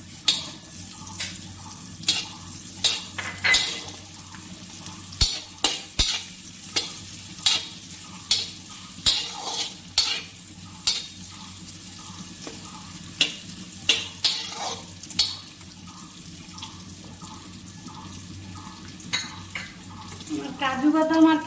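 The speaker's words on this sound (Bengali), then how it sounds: "কাজু বাদাম আর কিশমিশটা ভাজা হয়ে গেছে।" Cashew nuts and raisins fry in a pan with a soft background sizzle, while a spatula scrapes and clacks against the metal in a regular rhythm of repeated strokes, close up, and a voice talks briefly.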